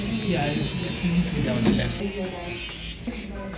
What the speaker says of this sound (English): My husband is here to shave his hair.